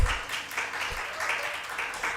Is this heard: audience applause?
yes